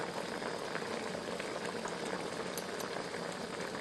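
Carrot murabba flavoured with kewra essence bubbling in a pot as it cooks, a dense continuous simmer of popping bubbles, close and even throughout with no talk.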